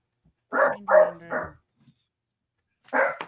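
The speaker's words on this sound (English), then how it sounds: "Dog's barking at somebody." A dog barks at a stranger, three quick close barks in a row, then a pause and a fourth bark.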